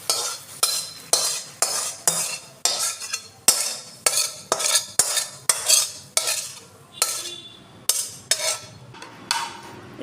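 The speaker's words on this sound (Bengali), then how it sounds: "এরপর আমি একটা কেক টিন নিয়ে নিয়েছি, এটার মধ্যে ঘি মাখিয়ে নিয়েছি, নিয়ে আমি এর মধ্যে সিমুইটা ঢেলে দেবো।" Cooked vermicelli kalakand mixture being scraped out with a metal spoon into a ghee-greased cake tin, heard as about sixteen rhythmic, close scraping clinks against metal, evenly spaced with no voices.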